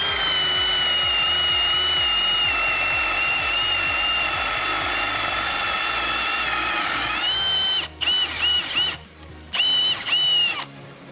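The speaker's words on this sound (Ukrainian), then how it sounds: "Спробуємо ще в дубову дошку 32 сверло." Milwaukee M18 FPD2-502X cordless hammer drill boring a 32 mm hole into an oak board, running at a steady high whine that dips and stutters near the end as the bit breaks through and the trigger is released, no voices.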